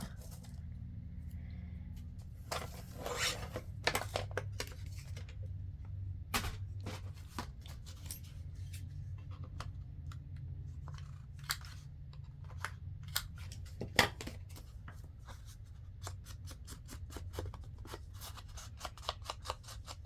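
Scissors cutting paper for an envelope, crisp repeated snips in short clusters, close up and fairly quiet over a low background hum, with no talking.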